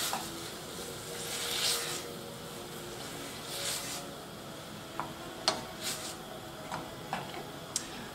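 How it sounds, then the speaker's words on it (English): Onions, garlic, chopped tomatoes, salt and herbs stirred in a pan for lasagne sauce, with a steady low sizzle and a few sharp clicks of a utensil against the pan, close and without speech. "I'm also going to add my chopped tomatoes, my salt and my herbs. So we can add that straight into here. And just give that a bit of a stir."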